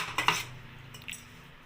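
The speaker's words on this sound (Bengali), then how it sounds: "আমি একটা চামচ দিয়ে পার্শে মাছগুলোর মধ্যে নুন আর হলুদ মাখিয়ে নেব।" A spoon works salt and turmeric into raw parshe fish, giving a few quick metallic clinks and scrapes against the bowl near the start, then one more soft clink in a quiet room.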